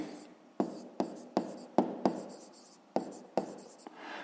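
A pen writes out a fifth-grade math exercise solution on paper in a run of distinct scratchy strokes, each one a sharp tap that fades, close and clear in a quiet room, with no speech.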